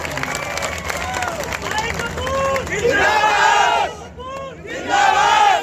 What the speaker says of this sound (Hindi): जोरदार तालियां बजा करके स्वागत।